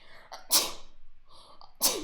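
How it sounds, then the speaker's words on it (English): Two sneezes in a row, each a sharp breathy burst after a quick inhale, close and loud. "Oh, I have to sneeze."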